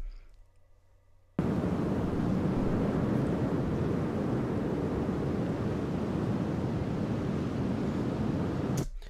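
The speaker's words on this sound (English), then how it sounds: "It's a Desert Wind Loop by Sound Rangers." A looping desert wind sound effect by Sound Rangers starts abruptly after a quiet moment, then holds as a steady, dense rushing roar for several seconds before cutting off at the end.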